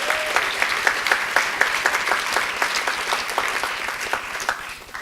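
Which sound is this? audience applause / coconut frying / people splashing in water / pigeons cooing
audience applause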